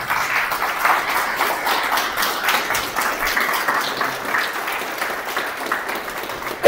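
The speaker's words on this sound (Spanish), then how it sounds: "Den un aplauso al Señor." A church congregation applauds steadily during a Spanish-language worship service, a dense, even patter of many hands that carries on without pause and stays fairly loud throughout, with no voices rising above it.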